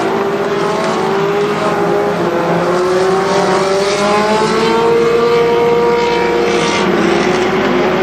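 Race cars at an oval speedway accelerate back up to speed after a caution, a dense, loud chorus of engines with rising pitches that overlap as the field passes, no talk.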